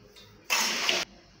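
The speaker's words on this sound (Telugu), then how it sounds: "ఈ వాటర్ని పారబోసిద్దాం" Water poured out of a pot after boiling eggs: one short, close splashing gush lasting about half a second, then quiet.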